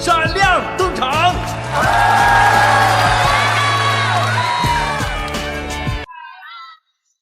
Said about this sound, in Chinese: 让我们用最最热烈的掌声，请出 JC 组合闪亮登场